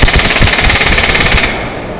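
Rifle fitted with a red dot sight fired in semi-auto, a rapid string of sharp close shots for about a second and a half before the firing stops and a steady hiss remains.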